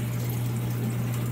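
Water pours and gurgles steadily during an aquarium water change, with a continuous low pump-like hum beneath the flow.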